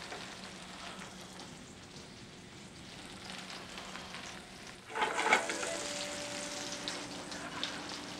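Lobster mushrooms sautéing in butter in a pan, a soft steady sizzle that turns louder and crackly partway through as more butter hits the heat.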